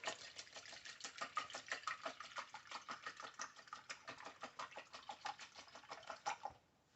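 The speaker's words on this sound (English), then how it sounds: "I've got my awesome whisk here. I'm going to whisk up my eggs." Eggs whisked in a bowl for a lemon dessert, a fast steady rhythm of wire beating against the bowl for several seconds before stopping, quiet and close with no talk.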